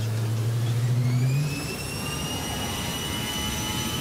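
Inside an airliner cabin, a steady jet engine roar fills the space, with a low hum that rises and shifts in pitch partway through, then a constant whine that holds with no one speaking.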